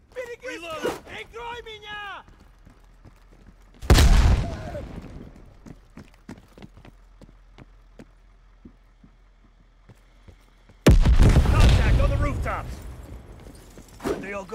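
Combat in the video game Call of Duty: Black Ops Cold War, with two heavy booming blasts of a grenade and gunfire, each dense and loud before fading, between which shouted voices and sparse sharp pops are heard.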